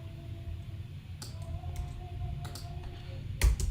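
Scattered keyboard clicks from someone typing quickly at a computer, a few separate bursts over a steady low background hum, with a louder cluster of keystrokes at the end.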